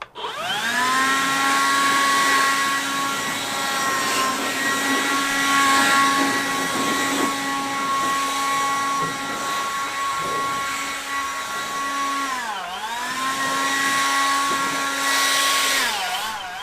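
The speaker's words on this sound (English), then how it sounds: "just able to take a battery blower and blow my tools off" A DeWalt 60V battery-powered blower runs close by, blowing dust off a table saw with a loud, steady whine that dips briefly in pitch and speed before recovering, and no talk.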